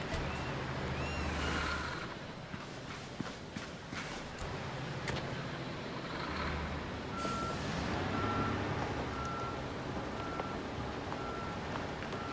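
A dump truck in the video game Construction Simulator backs up. Its reversing alarm beeps at a steady, regular rhythm over a constant engine rumble with a faint hiss of air.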